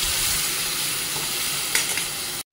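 Grated coconut being stirred into red cowpea curry in a hot pan: a steady sizzle with soft scraping strokes, a few louder scrapes near the end, close by and without talk.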